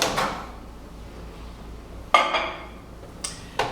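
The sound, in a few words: bowl of chestnuts in water put into microwave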